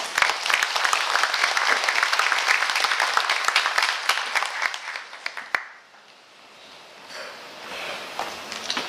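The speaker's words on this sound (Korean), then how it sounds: "열정적으로 강의해주신 도지사님께 다시 한번 큰 박수 부탁드립니다" Audience applause after a provincial governor's lecture, dense clapping from a crowd that holds steady for several seconds, then drops off sharply into scattered claps and room noise.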